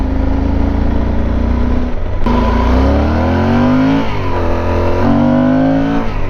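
Yamaha Super Tenere inline twin motorcycle revving hard while riding, the engine note climbing through several gears with rising and falling pitch sweeps, loud and close, under steady wind noise.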